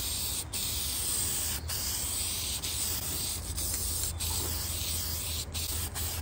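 An aerosol spray can lays a light first coat of paint on a sanded part from a John Deere D130 lawn mower tractor. The steady, close hiss runs almost without pause, broken only by a few brief stops.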